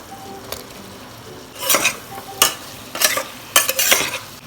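Biryani masala with fried onion and paneer is being stirred in a pan: several scraping strokes come in bursts over a soft background sizzle, close and clear with no talking.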